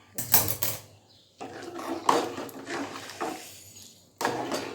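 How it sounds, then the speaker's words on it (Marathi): Yelvani, a lentil cooking stock, poured into a pot of sautéed masala gives a few splashing, clattering bursts separated by short pauses, close and moderately loud. "येळवणी ओतून घेणार आहे"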